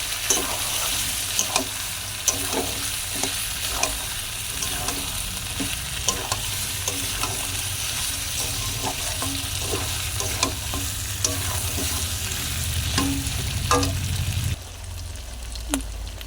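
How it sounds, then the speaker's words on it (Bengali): Chicken and fried potatoes are stir-fried together in a pan of oil, giving a steady close sizzle with frequent scraping stir strokes throughout, easing off slightly near the end. "মাংসের সাথে আলুটা খুব ভালোভাবে আমার কষানো হয়ে গিয়েছে।"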